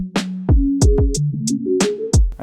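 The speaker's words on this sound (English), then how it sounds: "I think this one is actually like a trap sounding open hi-hat" Open hi-hat with a trap-style sizzle in an RnB beat built in Logic Pro X, its bright washes ringing out several times over a kick and a sliding bass line, loud and up front with no talking.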